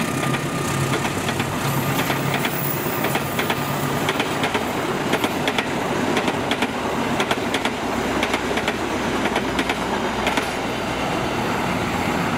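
The Brawijaya KA74 passenger train rolls past at Bekasi Timur, a loud, continuous roar of wheels and rails with faint rhythmic clatter, close by and without talk.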